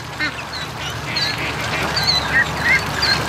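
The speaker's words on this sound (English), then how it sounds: "Yeah, the geese are taking them down to the water." Geese honking outdoors near a creek while being led down to the water, with several short honks scattered over steady background noise at moderate distance.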